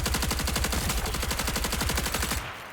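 A cannon fires in the video game Marathon as a loud, rapid series of sharp repeated blasts in an even machine-gun-like rhythm, cutting off abruptly near the end.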